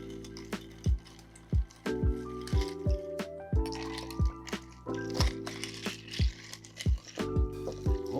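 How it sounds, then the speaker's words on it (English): A peach mule cocktail with ginger beer is stirred gently, giving soft repeated clinks and liquid swishes at an irregular rhythm, close and fairly quiet, with no voices. "I'll give that a quick stir, gentle stir."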